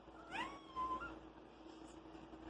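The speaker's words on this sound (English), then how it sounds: "There's my kitty again." A pet cat meows twice indoors, a short chirp followed by a longer drawn-out meow, quiet and close against a faint room hum.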